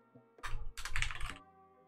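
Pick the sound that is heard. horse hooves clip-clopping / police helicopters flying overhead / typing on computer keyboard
typing on computer keyboard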